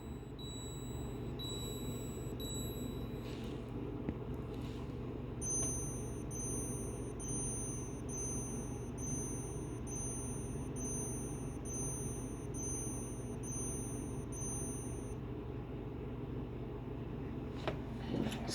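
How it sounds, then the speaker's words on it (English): A minute repeater watch chimes in a series of evenly spaced, high, thin electronic-style beeps, a few first and then a longer run of about a dozen, faint over steady room hum. "I'll go ahead and give you all one of those beeps for the minute repeating."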